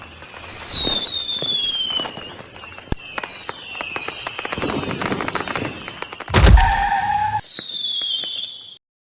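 A powerful Indian nattu vedi country firecracker from Dharmapuri explodes outdoors, with crackling fizz and scattered pops building to one big, loud blast, followed by whistling tones.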